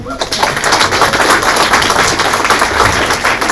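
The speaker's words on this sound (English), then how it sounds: "Please do a round of applause for Gifty and Matthew." Audience applause at a Croydon BME Forum Black History Month evening, dense steady clapping from a crowd, sustained and fairly loud throughout with no break.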